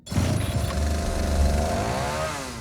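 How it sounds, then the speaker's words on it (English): A chainsaw recorded for a horror film's sound effects runs alone for a couple of seconds, a close, rough, steady engine buzz that wavers slightly in pitch. "Just listening to the chainsaw is terrifying"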